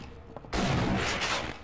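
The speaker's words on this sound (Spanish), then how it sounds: "Un balazo de shotgun y no muere." A single loud shotgun blast in the video game Half-Life: Blue Shift bursts in suddenly after a brief quiet moment, then booms and decays with a rough, crackling tail.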